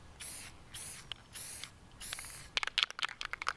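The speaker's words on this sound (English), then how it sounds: "So it's going to shoot it with some spray paint really quick" A spray paint can loaded with old yellow paint hisses in four short bursts, followed by a rapid series of rattling clicks, close and fairly quiet.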